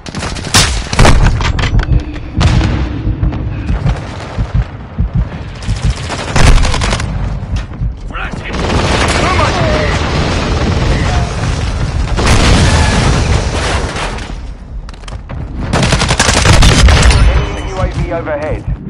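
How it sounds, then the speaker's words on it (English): Heavy mortar strike explosions in Call of Duty: Modern Warfare II, loud booming blasts in repeated bursts mixed with rattling gunfire across a chaotic battlefield, with in-game voice callouts heard between impacts. "Hostile mortar strike near your position"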